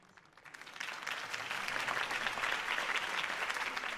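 A crowd applauds after a campaign speech in a Batman video game, the clapping swelling quickly into dense, sustained applause at moderate volume.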